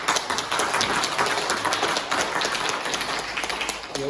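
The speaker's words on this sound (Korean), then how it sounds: "박수 한번." A church congregation claps continuously after a cello performance at a worship service, a dense patter of applause that stays even throughout.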